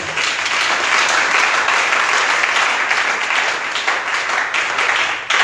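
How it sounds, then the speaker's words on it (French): A church congregation breaks into loud, sustained applause and cheering, a dense wall of clapping that carries steadily for several seconds before tapering slightly at the end. "J'aimerais que tu acclames très très fort."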